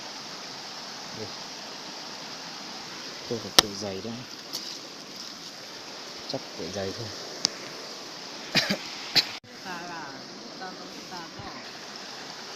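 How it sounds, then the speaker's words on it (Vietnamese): A rocky mountain stream in the highlands rushes past as a steady, close hiss while someone speaks and coughs over the flowing water. "Bây giờ tôi cũng đi qua con suối này"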